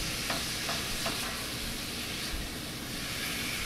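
Snow goose meat browning in bacon grease in a pan, giving a loud, steady, broadband sizzle close up, with a few faint stirring scrapes and no talk.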